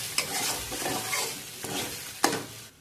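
Beaten eggs stirred into fried masala for anda bhurji in a hot pan: a loud sizzle with scraping spatula strokes and a few sharp clacks against the pan.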